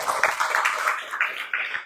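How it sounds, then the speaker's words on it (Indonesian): Audience applause for a moderator and two speakers at a focus group discussion, a dense, steady patter of many hands clapping together for about two seconds. "mari kita berikan tepuk tangan untuk moderator kedua narasumber"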